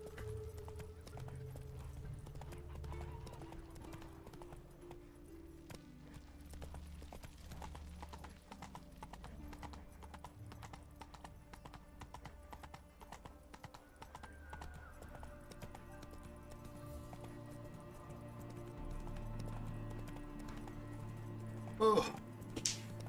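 Roach the horse's hooves clip-clop in The Witcher 3, a soft, continuous patter of steps under game music and ambience, fairly quiet, with a brief louder burst near the end.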